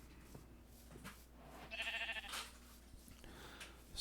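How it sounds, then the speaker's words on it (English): A sheep bleats in a Minecraft-style video game, a single short, wavering bleat in the middle over a quiet background. "That's a real black sheep."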